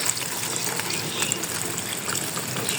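Cooked water lily stems are rinsed under running water, which gives a steady, close trickle and splash with no pauses.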